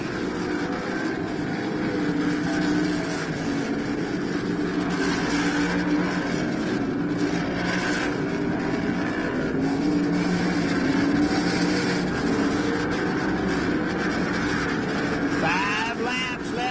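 Race cars roar around a track at a 1988 inaugural US race, a continuous loud engine drone that swells and fades as the cars pass, with indistinct voices mixed in.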